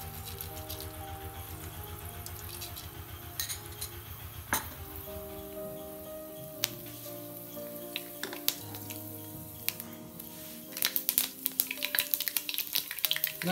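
Fenugreek and mustard seeds fry in hot coconut oil, giving a steady sizzle with scattered pops, metallic clinks and stirring rattles from the pan, and no talking.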